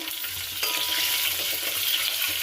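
Asafoetida dropped into hot oil for rasam, giving a loud, dense, continuous sizzle and crackle that swells slightly partway through, with no talking.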